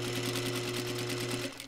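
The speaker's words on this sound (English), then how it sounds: "pull it taut as I sew, and I'm going to sew that down right at the very edge" Sewing machine stitching a seam on a corset gown, a steady close whirring hum with fast needle chatter that runs alone and slows at the end.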